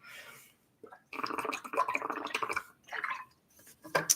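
Water poured from a glass bottle into a glass gurgles and splashes in several close bursts separated by short pauses, ending with a brighter final splash, with no talk.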